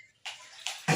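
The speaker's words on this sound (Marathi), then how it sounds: "बघा हे मस्त लोणीत पाणी टाकलंय" Water is poured into butter to wash it while ghee is being made, coming in a few short splashing gushes separated by brief pauses, close and fairly quiet.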